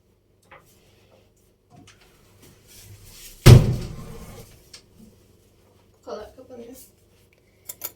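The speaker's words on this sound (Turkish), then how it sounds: "Hatta şu kapıyı da kapatayım." A door shutting indoors in a home kitchen while someone prepares a dessert with a mixer, one sharp loud thud that rings briefly and fades, with quiet room noise and small handling sounds before and after.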